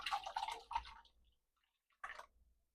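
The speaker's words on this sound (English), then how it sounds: "now we're just going to pour it in our pretty bowl that we want to serve it in for Easter." Liquid orange gelatin poured from a pan into a metal serving bowl, a close wet splashing and dripping run followed by a short silence and one more brief pour.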